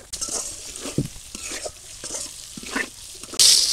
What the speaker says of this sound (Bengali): ভর্তার জন্য পটল ভাজতে নিচ্ছি